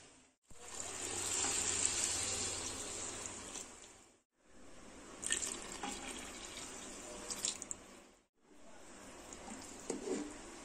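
Coconut milk poured over basmati rice in three separate pours, each a steady, close splashing stream lasting a few seconds and separated by brief pauses, without talk.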